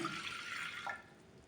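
A glass of water pours into a cooking pot at the start of drumstick soup, a soft, fairly faint splashing rush that trails off after about a second.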